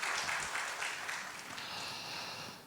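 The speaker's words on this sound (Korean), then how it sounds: "우리 구목사님 다시 한번 박수 한번 좀 해주시면" A church congregation at a Friday worship service applauds the pastor, with a steady wash of clapping from many hands, fairly faint and distant, tapering off toward the end.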